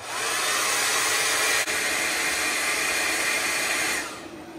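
A hot air blower runs continuously at close range, heating the NTC temperature sensor on a Dyness 12.8V 100Ah LiFePO4 battery, a loud steady rushing whine with one brief dip before it winds down at the end.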